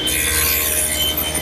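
A table saw cuts a tenon shoulder on a chaise lounge part held against an angled miter gauge, a loud steady whining rasp of blade through wood, brief and close with no voices.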